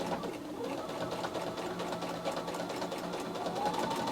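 A sewing machine stitches piping binding onto the edge of a quilt. It runs with a fairly quiet, continuous rapid whirring and ticking, with no pause in the motion.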